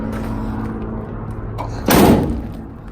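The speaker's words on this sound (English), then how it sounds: "See how nice and tight that thing slams." A 1948 Cadillac Series 62 fastback club coupe door swings shut with a single solid, close thump, heard once against quiet outdoor background noise.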